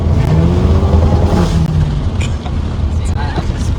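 A Hyundai Elantra N with a catless downpipe runs loud and close, its exhaust rumbling with a few sharp pops and crackles while someone talks over it.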